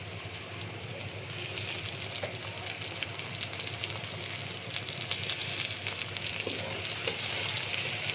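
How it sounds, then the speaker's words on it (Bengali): Onions, crushed ginger and garlic fry steadily in hot oil, a continuous loud sizzle with faint stirring scrapes throughout, no voices. "এটা কিছুক্ষণ ভেজে নেব।"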